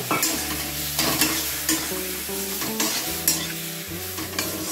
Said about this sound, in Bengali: এখন আমি দিয়ে দেবো সর্ষের গুঁড়ো, দিয়ে আমি ভালো করে একটু নাড়াচাড়া করে নেব